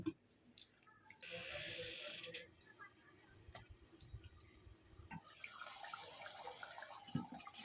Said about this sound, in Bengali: এবার আমি গ্রেভির জন্য জল দেব